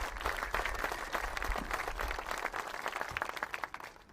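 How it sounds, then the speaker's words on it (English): An audience at an officials' event for Pawtucket's Tidewater Landing project applauds, a fairly quiet but steady patter of many hands clapping that trails off slightly near the end. "Yes, absolutely, give them a round of applause."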